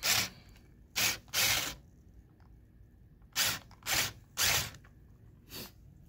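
A ratcheting tool tightens the screws on a QS screen printing frame, giving several short, loud mechanical ratchet bursts in separate groups, close up, with quiet gaps between them.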